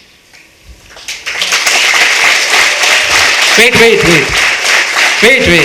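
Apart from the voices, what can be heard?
students clapping and cheering at a freshers day celebration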